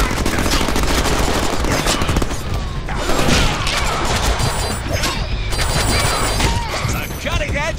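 Rapid bursts of gunfire in the Deadpool video game crackle almost nonstop, loud and close, with explosive crashes and mechanical clatter layered over a voice talking throughout.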